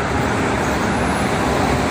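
Dense morning traffic with many trucks, buses and cars on the Jakarta-Cikampek toll road, a loud continuous roadway roar that fills the whole moment without any break.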